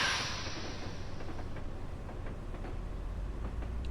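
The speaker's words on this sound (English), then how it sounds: "you missed your train. We're departing now." A Metro North commuter train in Train Simulator Classic departs Hastings on the Hudson: a low steady rolling rumble with faint periodic clicks from the rails, a brief hiss at the start, fairly quiet and without talk.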